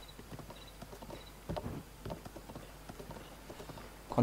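A horse ridden in Zelda Breath of the Wild on Wii U clip-clops with close hoof strikes in a loose rhythm, growing heavier and thumping in the middle before settling into lighter steps.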